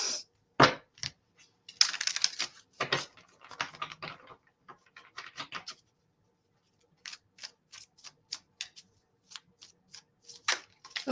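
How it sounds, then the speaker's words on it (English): Tarot cards are shuffled and drawn on a table in quiet, scattered bursts of soft riffling, flicks and light taps separated by short silences. "Let's pull some cards."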